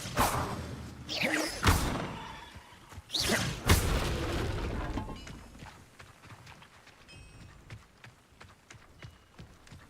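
Depulso spell cast in Hogwarts Legacy: a burst of whooshing magic followed by heavy booming thuds, several impacts clustered in the first few seconds before fading into quieter ambient rumble.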